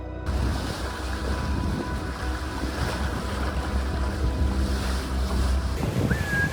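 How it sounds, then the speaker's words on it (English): A sailing boat moves through open ocean in roughly 15 knots of wind, with steady rushing wind noise on the microphone and continuous wash of waves against the hull. "We probably have a good 15 knots of wind."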